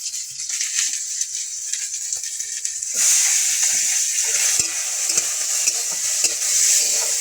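Chopped onions and green chillies frying in a pan, a soft sizzle that swells much louder when more goes in, with repeated spatula scrapes and stirring clinks close by and no voices.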